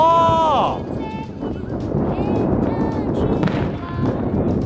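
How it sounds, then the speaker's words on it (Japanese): Fireworks exploding over a winter camp on a cold night, with whistling rising tones and dull booming bursts, while people talk and react close by. "いいね、冬の花火。"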